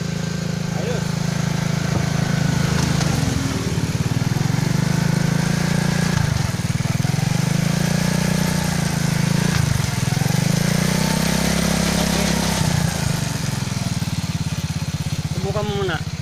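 Rusi 100 motorcycle engine after repair, running steadily and close, with repeated revs rising and falling over a continuous mechanical drone.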